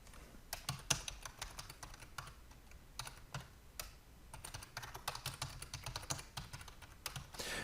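Credentials are typed on a computer keyboard, producing a steady stream of quiet, rapid key clicks with brief pauses, close and alone.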